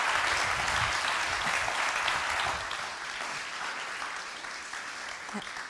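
A TEDx Glasgow audience applauds to welcome speakers Hannah Wright and Roland Harwood, a dense, sustained wash of clapping that stays loud for a few seconds and then eases slightly while continuing.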